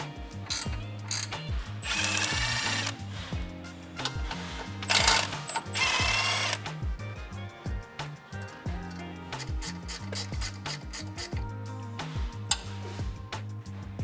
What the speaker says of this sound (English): I can't really get a 12mm or 13mm socket on this, so I am gonna be using a wrench